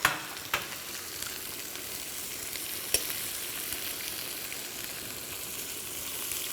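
Chopped onion frying in a pan gives a steady, close crackling sizzle with a few sharp pops near the start and again midway.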